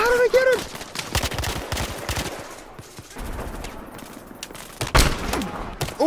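Nail gun shots from the video game Battlefield Hardline: a loud, rapid burst of sharp repeated cracks with scattered impacts, mixed with a voice at the start and busy game noise.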